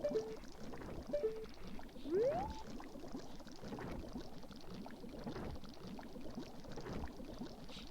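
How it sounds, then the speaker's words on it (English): Steady river water ambience running through a kitchen in the Majora's Mask video game, a continuous rushing, gurgling wash with a few brief tonal game effects near the start and no talking. "We've got the river that's running through the kitchen for some reason."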